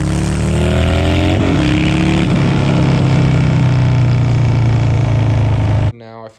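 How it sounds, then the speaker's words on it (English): Harley-Davidson Softail 103 motorcycle with a Vance and Hines 2-into-1 high output short exhaust idles and revs as a loud, steady, close engine rumble that cuts off abruptly near the end. "Now I finally landed on this Vance and Hines 2-in-1 high output short exhaust."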